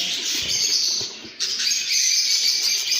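Small birds chirping steadily around a nest box holding three chicks, a dense high twittering that runs throughout with a brief dip in the middle.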